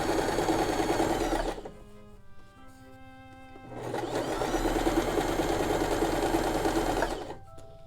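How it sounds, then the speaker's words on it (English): A Janome sewing machine running a straight stitch: two steady, close mechanical whirring runs separated by a short pause. "Now you're just going to straight stitch all the way down."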